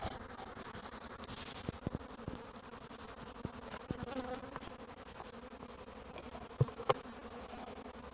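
A swarm of honeybees buzzes around a hive in a steady, dense drone, with a few faint knocks and clicks over the continuous hum.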